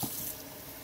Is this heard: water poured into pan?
yes